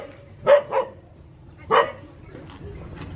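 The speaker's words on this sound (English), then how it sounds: "Dogs everywhere." Dogs outside a local home in Bali bark nearby in three sharp, loud barks, two close together and then one more after a short pause, with quieter yips and background noise after them.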